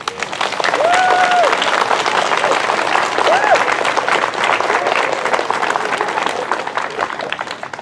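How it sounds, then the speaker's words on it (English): A crowd at an elementary school legacy ceremony applauds staff members with sustained, dense clapping that swells and stays loud, with cheers and voices mixed in. "Please give them a round of applause."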